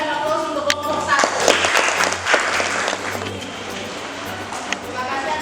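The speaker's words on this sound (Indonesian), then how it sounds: "Berikan aplaus untuk kelompok 1." An audience applauds a group after its presentation, sustained clapping that fills the room, with voices speaking over and around it.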